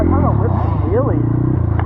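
Dirt bike engine revving hard during wheelie riding, a loud continuous motor drone with rising and falling pitch sweeps, close by over about two seconds.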